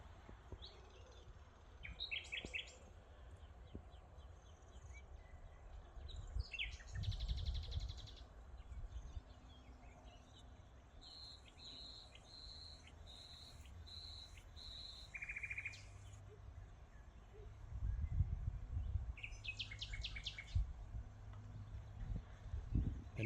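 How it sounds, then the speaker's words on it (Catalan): A nightingale sings near a hermitage in Catalonia in a faint, distant series of repeated whistled phrases, with other chirps, insect trilling and a low motorway hum underneath. "Ara mateix aquí se sent un rossinyol."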